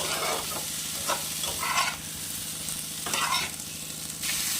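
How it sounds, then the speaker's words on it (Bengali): Cauliflower and other vegetables with turmeric, salt and two green chillies being sautéed in a hot pan, a steady close sizzle broken by repeated scraping stirs of the spoon. "দুটো কাঁচা লঙ্কা দিয়ে ভালো করে আর একটু কষিয়ে নেব"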